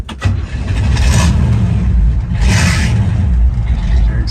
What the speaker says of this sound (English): So we'll start the old Chevy up.